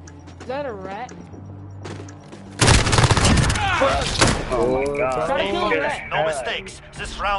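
Black Ops Modern Warfare search-and-destroy gunfire: a loud burst of shots erupts midway with a sharp crack, over game voice lines and chatter before and after.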